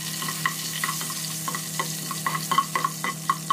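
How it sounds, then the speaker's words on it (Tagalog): Garlic sautés in hot cooking oil, a steady close sizzle broken by frequent light stirring clicks and scrapes in a home kitchen, for yellowfin tuna mechado. "Lagyan tayo ng bawang sa mantika"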